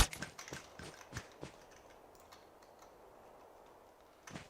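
Computer keyboard keys tapped during a Call of Duty Mobile match, a quick burst of sharp clicks at the start, then sparse faint taps over quiet room noise and a final click cluster at the end.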